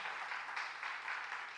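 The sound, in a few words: audience applause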